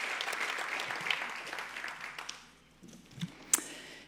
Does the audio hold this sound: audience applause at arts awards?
yes